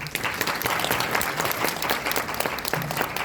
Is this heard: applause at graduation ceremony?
yes